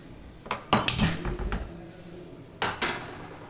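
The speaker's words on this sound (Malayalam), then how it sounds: "ഇതൊന്ന് ഇളക്കി കൊടുക്കുക." A utensil stirring a pot of mango puluseri over the flame, with a few sharp metal clanks and scrapes in short bursts near the start and again later, close and clear.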